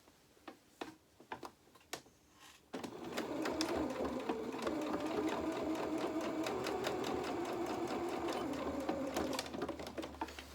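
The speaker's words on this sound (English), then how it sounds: "we just go back onto the machine and we just sew this bit here just to close that gap up." A sewing machine stitches a pyjama-bottom waistband channel closed, running as a fast, steady mechanical whir for most of the stretch after a few separate clicks and knocks at the start.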